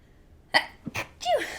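A sharp, close sneeze bursts out, followed by a couple of short breathy sounds.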